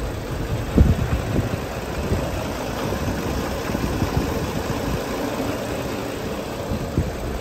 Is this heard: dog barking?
no